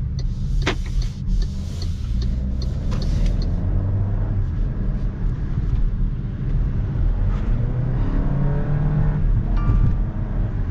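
A 2024 MG HS 1.5 TGDi 172 hp engine revs hard at full throttle and climbs steadily in pitch as it accelerates, a loud continuous drone with road rumble underneath.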